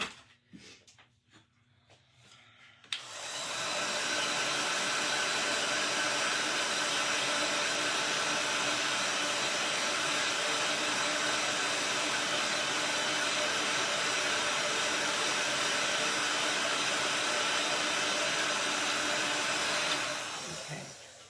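A hair dryer runs continuously at close range for about eighteen seconds, drying a craft project made from an upcycled mailer; it switches on abruptly after a quiet start and blows steadily without talk.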